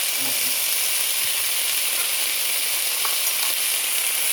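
Ground sirloin and beans sizzle in a pan for gluten-free chili, a continuous loud frying hiss with a few faint stirring knocks and some low-level voice in the background.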